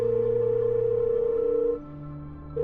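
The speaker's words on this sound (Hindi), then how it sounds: "काफी देर तक रिंग जाती रहती है लेकिन आरव फोन नहीं उठाता।" A phone ringback tone repeats steadily as a call goes unanswered late at night, a sustained electronic tone that breaks off briefly before starting again, heard alone.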